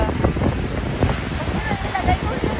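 Rough surf crashing along the shore at Barangay Tinguib, a steady broadband wash of breaking waves with heavy wind buffeting the microphone throughout, loud and close.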